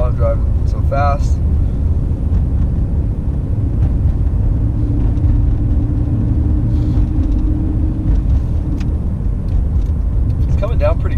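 A car driving at night through falling snow on a village road, with a steady loud low engine and road rumble throughout and occasional faint voices over it.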